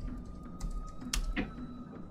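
Soft, scattered keystrokes on a computer keyboard tap at an irregular pace, fairly quiet and close, with a faint steady hum beneath.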